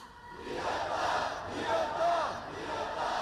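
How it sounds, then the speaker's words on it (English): Large protest crowd gathered outside parliament at a candlelit vigil, a continuous roar of many voices swelling and chanting together, distant and sustained. "large crowds gathered outside the parliament for a candlelit vigil"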